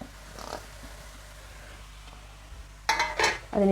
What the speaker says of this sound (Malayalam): ശേഷം നന്നായി ഒന്ന് ഇളക്കി കൊടുക്കുക